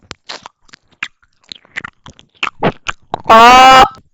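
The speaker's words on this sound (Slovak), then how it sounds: "Poďte počúvať, že ak ja žujem žuvačku." Loud gum chewing right at the microphone, a run of wet, crunchy smacks and clicks at an irregular rhythm, ending in a brief high-pitched vocal squeal.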